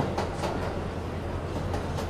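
A moving train rumbles steadily with rhythmic clickety-clack beats from the wheels, a dense continuous roar heard from inside or nearby.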